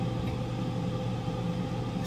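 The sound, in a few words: air fryer running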